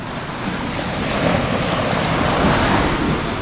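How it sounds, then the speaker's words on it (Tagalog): Ocean waves wash onto a sandy beach at Bolinao, Pangasinan, a loud, steady roar of surf heard up close with gusty wind noise and swelling surges. "Ito na yung tubig, papunta sa atin."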